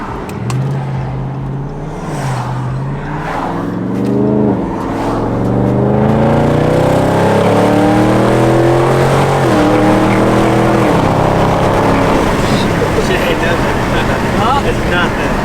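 A widebody Dodge Scat Pack accelerates hard from inside the car, its engine note rising through several gear pulls in a loud, continuous roar, with people talking over it.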